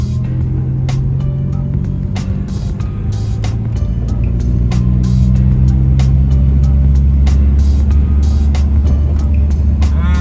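Widebody Dodge Neon driving on a road, a steady low engine drone with tire and road rumble heard from inside the car, plus occasional clicks and knocks.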